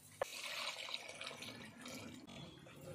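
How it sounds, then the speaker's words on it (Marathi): Hot water poured into a pan of fried masala paste for a village-style egg curry, a steady splashing gush after a brief knock, close and continuous for the whole stretch with no talking. "गरम पाणी घालूया."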